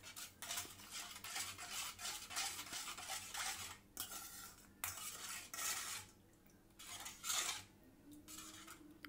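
Ingredients for Bombay duck colocasia leaf rolls, oil and salt among them, are mixed together by hand in a bowl, giving quiet irregular scraping, rubbing and clinking bursts with short pauses, close by, with no talking.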